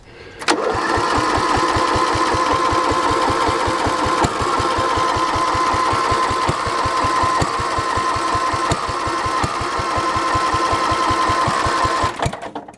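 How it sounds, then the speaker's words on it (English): A charcoal gas tractor engine cranks briefly, then catches and runs with a loud, rapid, even chugging beat that holds steady for about twelve seconds before cutting off. "I believe we got enough gas to start the engine."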